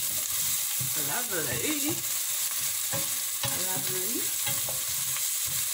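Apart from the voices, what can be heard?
stirring beefed-up rice frying in pot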